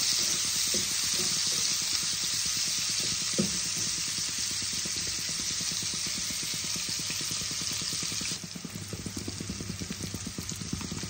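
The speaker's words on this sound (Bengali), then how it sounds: "পেঁয়াজগুলোকে আমি লাল লাল করে ভেজে নেব।" Onions frying in a pan for a Bengali pabda fish curry, a continuous close hissing sizzle with faint rapid crackles, steady and moderately quiet, dropping slightly in intensity near the end.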